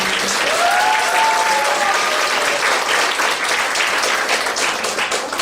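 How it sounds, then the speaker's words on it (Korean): Sustained audience applause from a seated crowd at a talk-show style healing chat event, steady and dense throughout, with a brief faint tonal whistle-like sound early on and no speech. "우리 정영숙 친구에게 박수 보내주세요"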